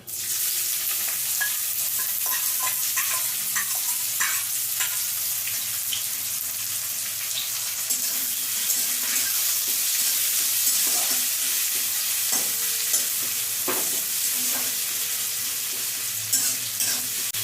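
Onions frying in a pan with a constant close sizzle, broken by repeated clinks and scrapes from stirring throughout, and no talking.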